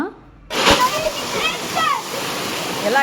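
A waterfall roars steadily after a brief quiet start, and it stays loud and close throughout. People on a family outing talk and call out over the rushing water.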